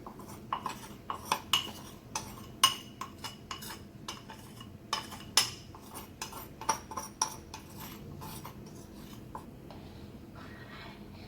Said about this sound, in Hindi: बेसन को दही में अच्छे से मिक्स कर लेंगे, इसमें लम्स नहीं रहने चाहिए